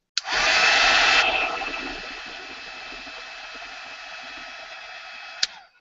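A heat tool blows hot air to melt embossing powder, giving a steady close whoosh that is louder for the first second and then even. A small click sounds near the end.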